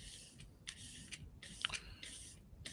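A knife scraping and carving a rock for Warhammer 40K terrain, several short, quiet scraping strokes separated by brief pauses, with one sharper click partway through.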